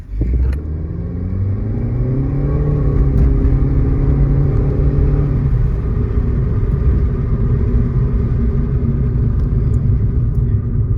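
A car engine on a road test during a mass air flow sensor check drones loudly and continuously, its pitch climbing as it revs, then holding steady at speed.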